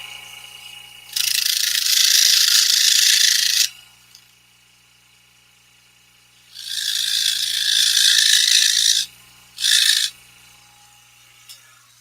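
Shaving the fuzzy edges of a cut-out hole produces two long, steady rasping scrapes of a few seconds each, then a short burst, fairly close with no voices.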